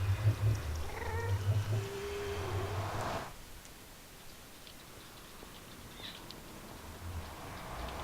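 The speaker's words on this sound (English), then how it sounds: "I apologise for my cats, they just make too much noise." Domestic cats meow in bursts during the first three seconds, loud and close, before the sound drops to a quiet, steady background hiss.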